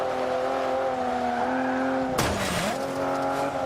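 Race car engines in Forza Motorsport 5 drone steadily, and then a sharp burst and a falling pitch sweep mark one car overtaking another, loud and close, with no talking.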